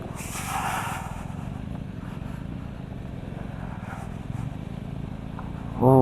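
A motorcycle fords an off-road water crossing over round stones on a Ladakh mountain road, its engine a steady, moderate rumble with a faint scrape, then a short voice right at the end.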